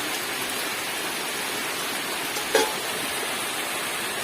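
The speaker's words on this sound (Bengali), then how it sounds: "আরে বৃষ্টির ছাঁট লাগবে তো" Steady winter rain hisses evenly throughout, a soft continuous wash of falling water with a brief thud partway through; no voices.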